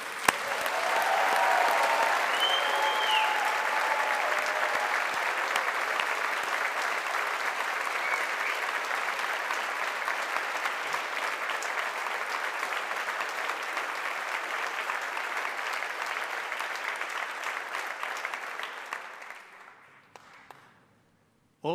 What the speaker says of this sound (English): I'd like you to join me in offering our heartfelt congratulations to our graduates of 2025 for their collective achievements and success with a round of applause